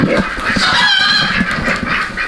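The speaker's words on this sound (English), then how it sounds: "And these dang chickens will not hush" Loud, continuous clucking and squawking from a crowd of chickens close by, busy and overlapping throughout.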